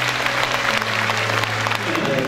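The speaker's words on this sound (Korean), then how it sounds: "다시 한번 우리 수상자들께 뜨거운 박수 부탁드리겠습니다" Applause for award winners at a volunteer festival in Gapyeong rattles on under steady background tones, like a sustained hall sound. It stays at a fairly constant level through the brief stretch.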